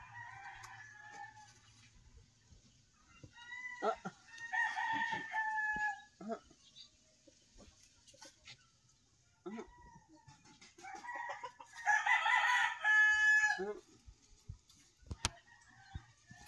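Chickens crow and cluck in short, loud bursts separated by quiet pauses, with a long crow near the end and scattered clicks and taps between the calls.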